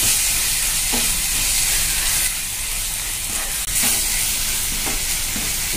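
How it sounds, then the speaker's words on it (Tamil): Masala fries in a hot pan for tomato thokku, a loud, continuous sizzle and hiss with a few soft scraping stirs of a spoon; no one speaks. "மசாலாவை பச்சை வாசனை போகிற அளவுக்கு ஃப்ரை பண்ணிடலாம்"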